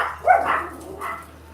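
A single dog gives a short pair of barks with a slight whimpering tail, close and fairly loud indoors, then a quieter yip before fading.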